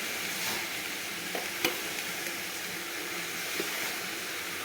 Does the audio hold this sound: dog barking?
no